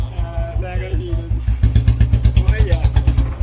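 A Bullet motorcycle engine thumps in a steady, rapid beat close by, growing stronger after a moment while someone talks over it.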